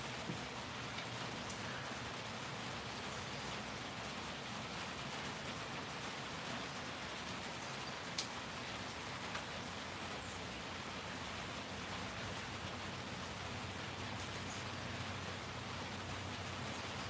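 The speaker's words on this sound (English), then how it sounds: "It is raining." Morning rain falls outdoors as a steady, even hiss of drops hitting surfaces, with faint scattered taps and no voices.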